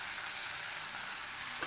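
Coriander leaves frying in hot oil in a pan for nune vankaya (stuffed brinjal) curry, a steady soft sizzle with a hissy crackle that holds evenly throughout, close and alone.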